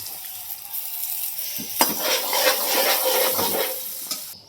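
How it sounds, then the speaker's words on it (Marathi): Spices hit hot oil in a kadhai with a sudden loud sizzle after a quieter start, then keep crackling and hissing steadily before fading at the end. "इथं कढईमध्ये तेल गरम करायला टाकले आता फोडणी देते"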